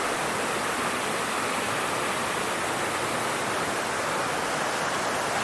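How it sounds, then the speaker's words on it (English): A waterfall at Stonewall Falls pours steadily into pools below, a loud, unbroken rush of falling water that fills the whole clip with no other sounds. "here's the other waterfall"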